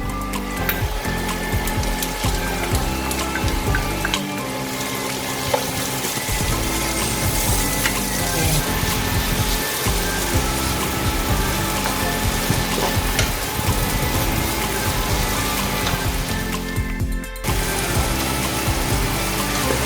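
Garlic and small sliced onion frying in a pan for beef and broccoli with cauliflower, a loud, continuous crackling sizzle up close with occasional clinks and scrapes, no talking.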